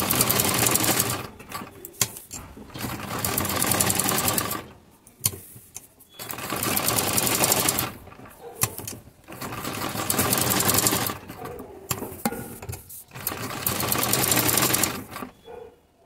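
A sewing machine runs zigzag stitching on a mori (sleeve cuff) design in steady loud bursts of about two seconds each, separated by short pauses, close and without talk.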